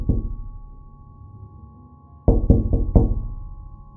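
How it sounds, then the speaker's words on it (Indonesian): Loud banging on a bedroom door, one heavy thud fading out, then after a pause four hard knocks in quick succession, resonant and close. "Suara gedor pintu itu ya cukup keras dan cukup lama"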